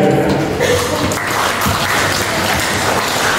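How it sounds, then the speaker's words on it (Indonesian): An audience at a forest rehabilitation project talk claps in a dense, continuous burst of applause that stays loud and close for the whole stretch. "mungkin tepuk tangan untuk semua orang di sini"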